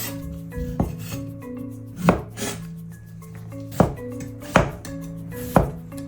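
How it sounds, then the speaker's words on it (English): A knife cuts 300 grams of cucumber into thin slices on a board, giving a handful of crisp, separate chopping knocks at an uneven pace over quiet background music. "Slice 300 grams of cucumber into thin slices"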